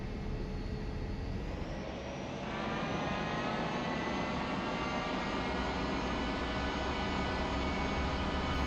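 Simulated T-45 jet on its takeoff roll at KPWT in FSX: a loud, continuous jet engine roar that swells after a couple of seconds as thrust builds, with a rising whine over a steady rumble.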